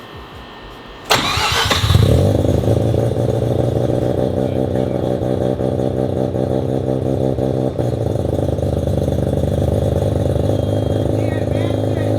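A Mazda RX7 rotary engine, with suspected tuning trouble, cranks and fires after a moment of quiet, then settles into a loud, rough, steady idle close by that continues to the end.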